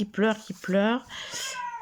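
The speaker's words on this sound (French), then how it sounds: "Si vous avez des chats âgés comme ça, qui miaulent de cette façon, est-ce que ça veut dire quelque chose?" An elderly cat meows twice in long, wavering cries, close and clear, followed by a higher, thinner whining tail; a voice is also present.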